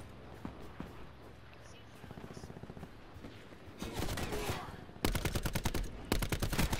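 Gunfire from Call of Duty Black Ops 4, scattered single shots early then dense rapid automatic bursts growing louder toward the end, with talk in the background.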